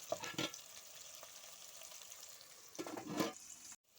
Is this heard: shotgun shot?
no